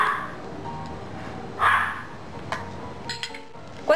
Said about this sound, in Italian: questo è il mio cane che abbaia